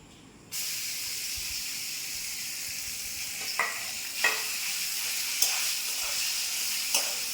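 Soybean chunks hit a hot pan with a sudden loud sizzle that settles into a steady hiss, with several scraping stirs spaced through it, close and without talk.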